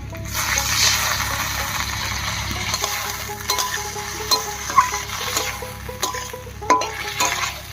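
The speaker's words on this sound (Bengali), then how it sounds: "এবার একটু মশলা ধোয়া জল দিয়ে ভালো করে কষিয়ে নেব।" Spice-rinsing water added to a pan of Bengali fish curry with pumpkin, a bubbling, sputtering sizzle with scattered splashes and light clinks of a spatula against the pan.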